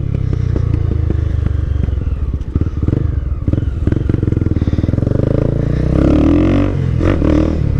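A modified Honda Twister motorcycle engine runs loud and close, idling with a rough, uneven rumble and a few revs, with some clattering mechanical noise.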